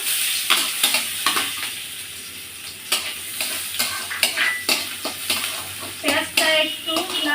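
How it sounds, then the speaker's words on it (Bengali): Crackling, spitting sizzle of chopped onions frying in hot oil, with repeated sharp bursts and stirring scrapes throughout, close up. "এবার আমি পেঁয়াজ কুচানোগুলো দিয়ে দেবো"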